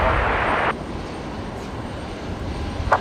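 An airliner departing runway 19 left at Brisbane Airport from the Alpha 3 intersection: a loud, steady broadband engine roar for the first moment, then dropping away to a lower, distant rumble.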